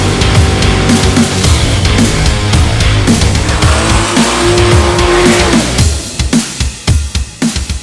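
Drag racing cars at Heathcote Park Raceway in Australia roar loudly and continuously, with layered engine noise and bursts of tire squeal, then break into choppier, intermittent revs toward the end.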